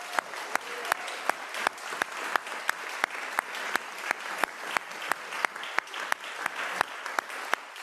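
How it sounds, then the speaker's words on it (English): Conference audience applause at a social prescribing event, steady clapping with a regular run of crisp, prominent single claps on top, moderately loud and free of talk. "so I want to give them a round of applause as well"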